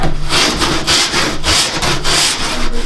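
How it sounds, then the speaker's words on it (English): A Wedi shower tray board gets a chamfer cut with quick, close back-and-forth rasping strokes, about six rhythmic passes, loud and alone. "So what I'm trying to do is put a little chamfer on it this way."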